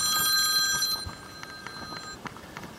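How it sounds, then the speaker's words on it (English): A mobile phone rings on a house construction site, a bright repeating electronic tone that is loud at first and then cut short, followed by faint background noise and light knocks. "my phone's ringing"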